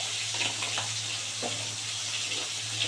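Shrimp fry in a pan with a steady, close sizzle of hot oil, a continuous crackling hiss with a few soft stirring clicks and no talking.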